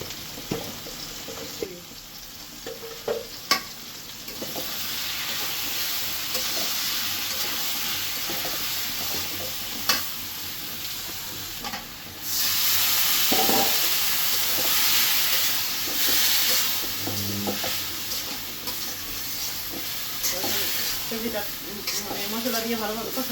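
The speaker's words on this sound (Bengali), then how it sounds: "ডাটা আলু ভাজা ভাজা হয়েছে" Vegetable stalks and potatoes frying in a pan, a continuous sizzling hiss with occasional stirring clinks and a few brief louder bursts.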